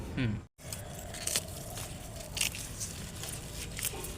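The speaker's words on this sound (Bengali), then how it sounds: "কচুর শাক কেটে নিচ্ছি।" Taro greens are cut in a rooftop garden, a string of crisp snapping and crackling cuts with rustling leaves close by, broken by one brief silent gap.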